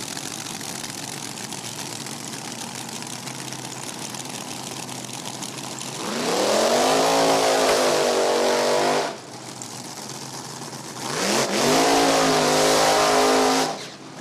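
NHRA drag race cars launch and roar down the track at No Problem Raceway, two loud sustained high-revving runs with rising engine pitch over a constant crowd and track din.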